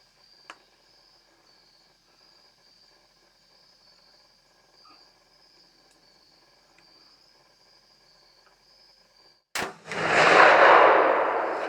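A rifle shot at a nine-point deer during a hunt cracks suddenly and loudly after a long stretch of steady cricket chirping, then a sharp rumbling echo follows.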